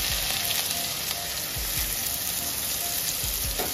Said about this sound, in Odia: ଜିରା ଟିକେ ଫୁଟିଗଲା ପରେ ଏବେ ଆମେ ପିଆଜ ପକାଇଦେବା।